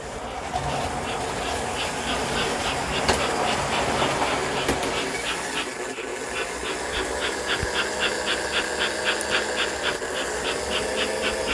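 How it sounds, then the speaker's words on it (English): A 1955 American Flyer toy train set runs through a holiday display, giving off a steady hiss under a regular, evenly spaced clicking that carries through the whole stretch with no voices. "get back to the original 1955 American Flyer train set"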